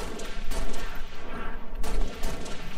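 Bursts of gunfire in Halo Reach, a loud clattering fusillade with two sharper impacts standing out amid the rapid shots.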